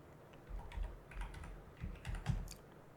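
Quiet keystrokes on a computer keyboard as a search term is entered on a Windows laptop, a short run of soft, irregular clicks close by with no talk.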